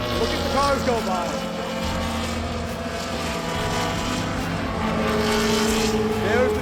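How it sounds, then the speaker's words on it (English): Formula 1 race cars scream past on the Austin Grand Prix circuit, a continuous high engine whine rising and falling over several seconds, with crowd noise and background voices underneath. "Look at the cars go by."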